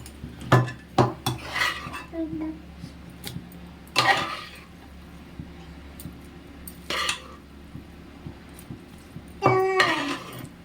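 A spoon scrapes and clinks against metal and dishes while mixed cauliflower pickle is moved into a bowl, making several sharp clatters and scrapes in irregular bursts separated by quiet pauses.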